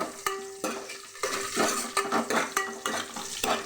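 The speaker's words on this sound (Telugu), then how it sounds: "ఇప్పుడు పోపు పెట్టుకున్నాము పప్పుని పెరుగు పెట్టుకున్నాము ఫ్రై చేసుకోండి" Dal and curd tempering frying in hot oil, a steady sizzle with repeated metal scrapes and stirring clinks of a spoon against the pan, close and moderately loud.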